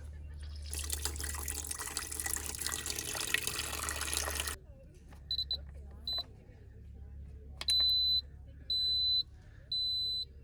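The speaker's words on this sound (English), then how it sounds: "So let's turn on the water." Water gushes steadily from a tap for several seconds, then cuts off, followed by a few short electronic beeps repeating at intervals.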